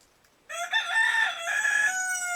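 A pet rooster crows once, close and loud, with a long drawn-out cock-a-doodle-doo that starts abruptly after a moment of quiet.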